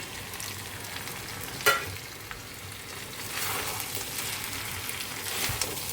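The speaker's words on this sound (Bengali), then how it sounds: "মশলাটা প্রায় কষানো হয়ে গেছে তেল ছেড়ে দিয়েছে একটু কষুক" Spice masala sizzling and being stirred in hot oil in a pan, a continuous close frying hiss with occasional scraping stirs and a brief knock, no voices present.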